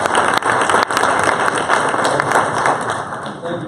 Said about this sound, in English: Let's give all of our presenters a round of applause.